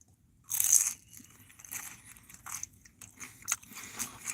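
Someone eats a crunchy vegan snack up close, with repeated crisp bites and crackly chewing that are quiet overall, the first bite the loudest.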